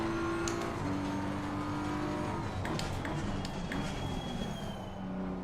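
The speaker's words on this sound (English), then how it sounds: "You can hear my brakes. How hard I'm using the brakes." Race car in Assetto Corsa Competizione braking hard, a continuous loud engine drone with falling tones and brief squeals of tyres as it slows through a corner.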